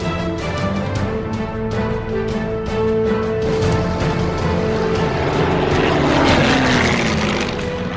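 A Soviet Yak-9 fighter's propeller engine drones loudly and steadily, then the pitch slides as the plane passes close by, with no voices.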